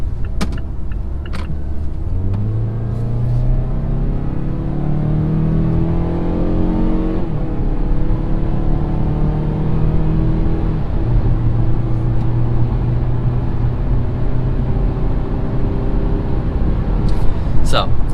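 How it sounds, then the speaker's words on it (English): A 2018 Mazda CX-5 pulls hard in sport mode up a highway on-ramp. Its engine note climbs steadily through the gears over a constant interior road roar, with rising harmonic sweeps and brief shift dips. "we are going to give her the beans on the highway and see how she does."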